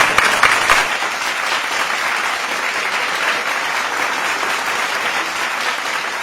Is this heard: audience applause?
yes